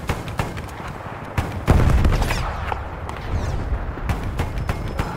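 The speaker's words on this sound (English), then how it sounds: "Grenade out, mind your head!" Grenade going off in a video game battle: a sharp, loud blast with a low rumble, surrounded by scattered gunfire cracks before and after.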